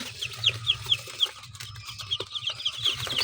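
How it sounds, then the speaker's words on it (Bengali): Day-old chicken chicks from a batch of sixty just hatched out of seventy eggs cheep in a steady run of high, short peeps, close and fairly loud over low background noise. "এটা মুরগির বাচ্চা, এই যে কালকে কেবল বাইর করছি।"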